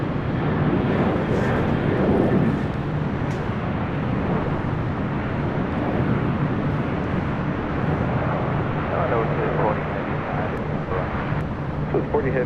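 Southwest Airlines Boeing 737-700 in Arizona One special livery, a continuous broad jet roar at an airport, steady and fairly loud throughout.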